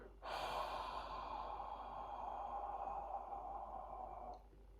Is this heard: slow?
yes